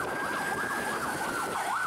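An ambulance siren wails in a steady rising and falling sweep, loud and continuous amid traffic rumble in Pematang Siantar congestion.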